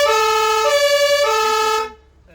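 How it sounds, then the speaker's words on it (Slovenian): An air siren on a Sežana ambulance is tested, blaring loud and close with a steady rich tone that steps in pitch twice before cutting off abruptly, leaving faint background noise. "Zračna sirena,"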